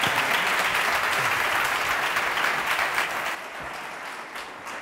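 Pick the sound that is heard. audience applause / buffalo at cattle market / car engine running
audience applause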